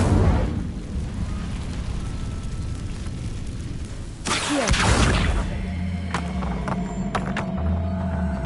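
A fire spell cast in the Hogwarts Legacy video game bursts out loud and sudden, a whooshing blast that gives way to a sustained crackling roar, following a low rumbling ambience.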